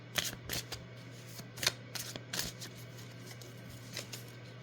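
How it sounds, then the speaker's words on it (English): Oracle cards are shuffled by hand close up, with a series of short crisp riffling bursts at an uneven pace over a low steady background hum, no talking. "Let's do a little shuffling."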